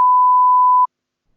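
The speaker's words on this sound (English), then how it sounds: "I haven't, because I'll beep it." A single steady censor beep, one clean pure tone lasting just under a second, loud and isolated, followed by silence.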